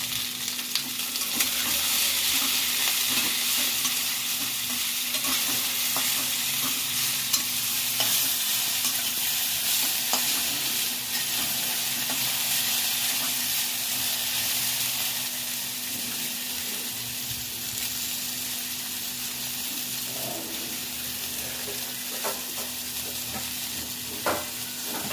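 Okra (ladyfinger) sizzles in a frying pan while being stirred, a continuous close hiss broken by scraping and light tapping as the pieces are turned, alone without speech.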